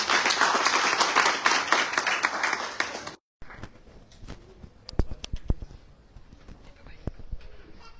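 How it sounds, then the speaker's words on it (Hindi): Enthusiastic applause from a congregation welcoming a speaker at a live Christmas church service, dense clapping for about three seconds that cuts off abruptly, followed by scattered claps and low murmuring. "जोरदार तालियों के साथ"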